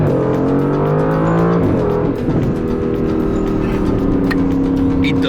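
A new Aston Martin's engine running loud and close, a steady rumbling drone that dips briefly and settles back into an even, sustained tone.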